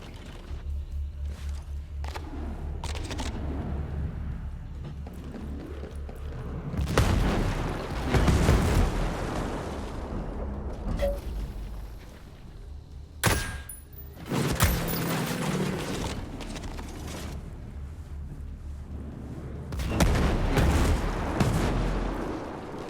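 Gunfire rings out in Ghost Recon Breakpoint, repeated sharp shots and heavy booming blasts scattered over about twenty seconds, some distant and some close and loud, with footsteps and ambient noise between volleys.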